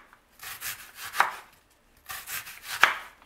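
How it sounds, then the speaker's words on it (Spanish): A knife cuts an onion into rounds on a board, giving two bursts of slicing with a sharp chop at the end of each, close and moderately loud, with no talking. "Ahora vamos a picar la cebolla. Lo que vamos a hacer es cortarla en rodajas."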